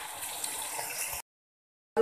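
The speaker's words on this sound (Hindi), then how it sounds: "अब मैंने सिर्फ आधा गिलास पानी डाला" Half a glass of water poured into a pot of potatoes on a kitchen stove, a steady close splash lasting about a second before cutting to silence, with a brief return of sound at the end.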